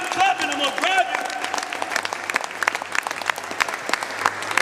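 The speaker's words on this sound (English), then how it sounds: "You better clap." Audience clapping at a live spoken performance, sustained applause that starts with cheers and whoops, then settles into sharp, scattered individual claps with people talking over it.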